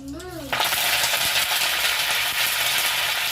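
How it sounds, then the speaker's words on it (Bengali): Mustard seeds and curry leaves hit hot oil with a sudden loud burst of dense, steady sizzling and crackling that continues close by after a brief tone at the start. "তেল গরম হয়ে গেছে, এটার মধ্যে আমি সর্ষে দিয়ে দেবো আর কারি পাতা"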